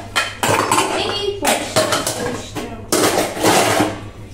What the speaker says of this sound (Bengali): আমার বাসন মাজাটা টুকটুক করে হয়ে গেল